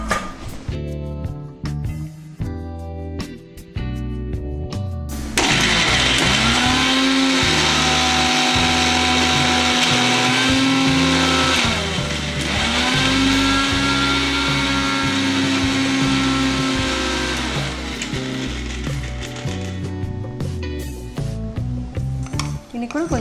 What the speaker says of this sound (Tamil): இந்த முந்திரி இதெல்லாம் நம்ம வந்து நல்லா நைஸாக ஒரு ஃபைன் பேஸ்ட்டாக அரைச்சிக்கலாம்.